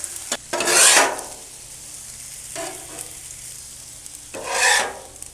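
Steak strips for a cheesesteak are stirred and worked around a hot griddle, making two loud scraping, sizzling sweeps with a quieter stir between them, close and with no talking.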